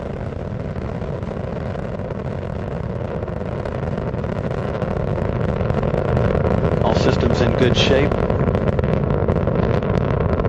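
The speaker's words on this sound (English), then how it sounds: "Engines throttling down as Atlantis prepares to maneuver through the area of maximum dynamic pressure on the vehicle in the lower atmosphere" Space Shuttle Atlantis on the STS-117 launch ascent, its engines a deep, continuous rumbling roar that swells slightly louder midway, with a radio voice speaking over it.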